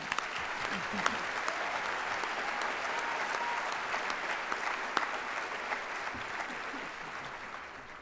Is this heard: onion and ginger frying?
no